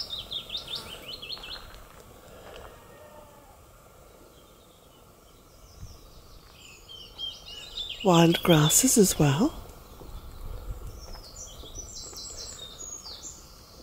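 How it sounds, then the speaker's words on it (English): Birds sing around a cottage garden of ferns, wild grasses and flowers: scattered chirps and tweets throughout, with a loud burst of rapid song near the middle, while a person talks quietly over them. "you can hear all the birds from Bealtaine Cottage"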